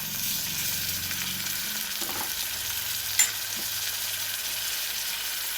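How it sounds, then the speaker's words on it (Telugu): Onions and green chillies frying in a pan for potato curry, a steady soft sizzle with faint stirring scrapes, continuous and close, with no voices. "పచ్చిమిర్చి, ఆనియన్స్ వేసేసుకుంటున్నాము."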